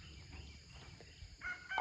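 Soft clucking and murmuring from laying hens, including brown layers, an Olive Egger, an Ameraucana and a Wyandotte, near the microphone, with a louder squawk at the very end.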